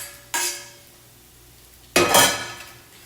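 Potatoes being stirred into beaten eggs for a Spanish frittata in a bowl: two separate bursts of scraping, mixing sound with a quiet pause between them, fairly close, no talking.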